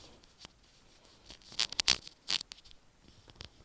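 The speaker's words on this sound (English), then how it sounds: "Let me zip up my sweater" A sweater zipper pulled in a few quick, raspy bursts, close by and fairly quiet, with small rustles around it.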